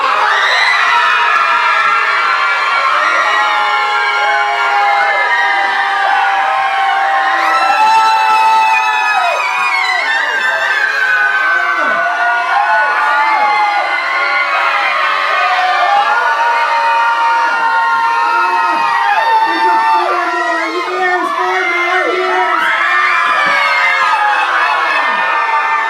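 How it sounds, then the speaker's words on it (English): An audience at a live stage show screams together in a loud, sustained, dense wall of voices that keeps going for the whole stretch without a break. "Why don't y'all try the screaming part? Come on, do it with us now."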